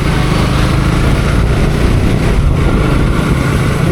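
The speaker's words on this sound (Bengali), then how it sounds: "এই যে সামনে এই বাইকটা যাচ্ছে, আর হচ্ছে আমার পিছে যে এই বাইকটা যাচ্ছে" A motorcycle rides along a village road on a winter morning, its small engine a loud, continuous buzzing drone close to the microphone, steady throughout with rushing wind.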